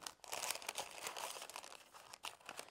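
Scissors cut a heart shape from Bondaweb fusible web, a faint, close, continuous papery crinkling and snipping with no talk.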